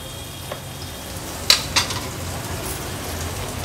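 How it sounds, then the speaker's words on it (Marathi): Cumin, finely chopped green chili and white sesame seeds fry in ghee over a low flame, giving a steady soft sizzle with a couple of brief sharp pops and a light stir near the middle. "आता ही फोडणी थोडीशी परतून घ्यायची आहे आपल्याला।"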